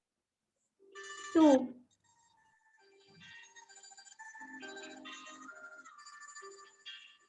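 A phone ringtone plays in a quiet classroom lecture setting, a short tonal melody of bright repeating notes after a brief loud voice burst near the start, ringing on fairly softly for several seconds.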